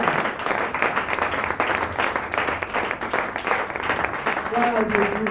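A church congregation applauding and cheering during a testimony service, dense steady clapping throughout with voices over it.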